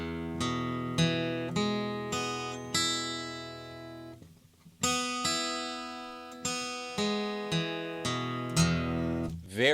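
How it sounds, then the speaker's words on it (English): Single acoustic guitar strings plucked one at a time, each note ringing and decaying at an even, steady volume, close and clear with a short pause midway and no talking. "And as I play each string, listen to the volume."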